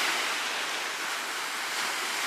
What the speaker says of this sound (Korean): 파도인가?